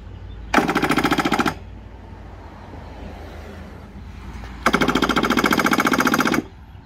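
A Craftsman M270 lawn mower engine cranked with the key in two loud bursts of rapid, rattling starter turnover, about one second and then nearly two, with a quiet pause between.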